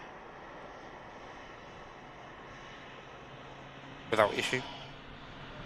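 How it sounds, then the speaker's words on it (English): A TUI passenger airliner touches down at Manchester Airport, its engine roar swelling briefly and loud near the end over a steady background hum, with a voice speaking over it. "Yep, TUI 73 touching down"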